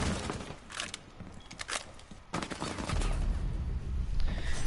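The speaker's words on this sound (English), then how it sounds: "Missing a couple shots onto the Doc allows him to get 1 onto the IQ" Gunfire in Rainbow Six Siege during a tournament match, with rapid bursts of shots and a fusillade of crackling reports over muffled game ambience, moderately loud throughout, no talking.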